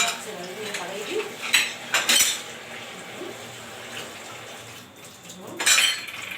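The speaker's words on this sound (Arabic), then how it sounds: "اروح اغسل العيون بتاعتي يا حبايبي اهو." Gas stove burner caps are washed at a sink with running water, clattering and clinking in sharp metallic knocks amid splashing and scrubbing.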